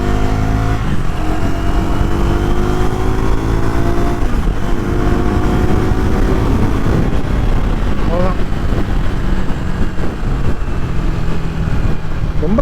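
A Triumph Tracker 400 motorcycle accelerates with a loud, steady engine roar that climbs through the revs, while someone talks over it.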